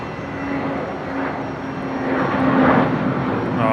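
A Jetstar jet airliner taking off at Brisbane Airport, heard as a rumbling engine roar from a distance that swells slightly over a few seconds.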